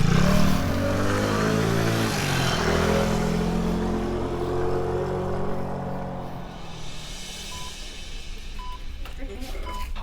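A scooter engine hums and gradually recedes into the distance, fading under a steady background drone.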